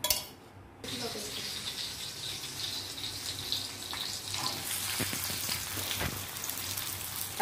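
Fasting khichdi frying in ghee in a pan, a steady close sizzle with occasional clinks and scraping of a spoon against the pan, running continuously after a brief quiet start.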